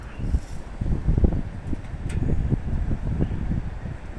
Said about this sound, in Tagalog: mahangin din guys